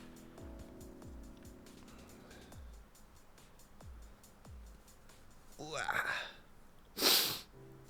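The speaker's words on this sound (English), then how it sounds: "I apologize for the sniffles." A person sniffles with a stuffy nose, giving several short faint sniffs under quiet background sounds, then a louder wet snort and a sharp sneeze-like burst near the end.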